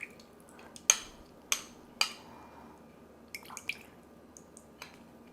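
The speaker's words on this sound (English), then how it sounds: "I'm going to drain this orange juice off into my cup" Orange juice drained off soaked cranberries into a cup, a few sharp drips and small wet splashes with faint clinks between, quiet and sparse, no talk.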